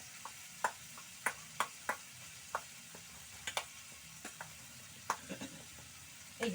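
Mashed flat beans hit a hot pan and fry with a soft, quiet sizzle, punctuated by sharp intermittent pops and clicks from the spatula and spitting oil.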